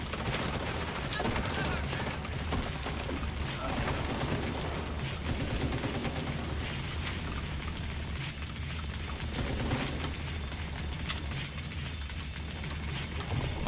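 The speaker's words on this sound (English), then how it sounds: "Luckily my turret is taking care of them." An automated turret in The Division 2 lets off dense, continuous bursts of gunfire against enemies, with heavy booms underneath and a voice talking over the shooting.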